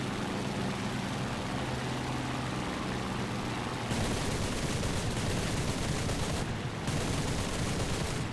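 Sustained aircraft machine-gun fire in War Thunder, a long dense rattle of rounds over a droning plane engine, with one brief break before the burst resumes.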